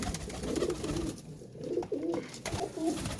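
Domestic flying pigeons cooing close by, repeated soft throaty coos in a rolling rhythm over an outdoor background hiss.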